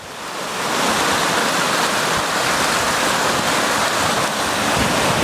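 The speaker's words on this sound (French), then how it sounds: "Ces vagues se forment lorsque l'eau entre en collision avec un obstacle ou en raison de caractéristiques spécifiques du fond marin." Large waves crash after floods in New Mexico, making a continuous loud roar of churning water that swells after the first second and holds steady, with no voices.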